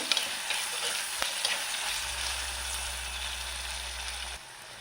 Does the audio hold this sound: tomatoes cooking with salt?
yes